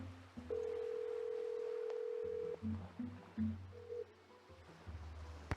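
A telephone in the Nancy Drew: Danger on Deception Island game: a long steady dial tone, then a short run of stepped dialing tones as a call is placed, with quiet background between.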